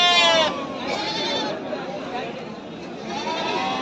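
A sheep with an injured, broken leg bleats nearby at a Sunday market, a wavering cry at the start and again later, over a murmur of background chatter and crowd noise.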